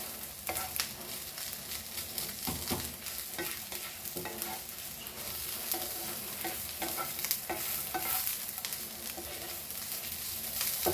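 Whole ingredients for Goan-style Akhi Masoor dal dry-roasting in a pan, with a steady soft sizzle and repeated rustling, scraping stirs, close and moderately quiet.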